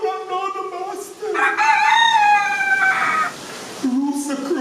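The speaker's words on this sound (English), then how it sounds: "The rooster crowed." A rooster crows loudly and close, with one long drawn-out cock-a-doodle-doo between shorter calls, and no talk.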